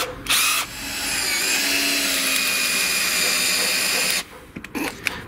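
An electric screwdriver with a torque limiter tightens a screw, spinning up after a short burst into a steady high whine that runs about four seconds, then stops, followed by a few clicks and handling noises.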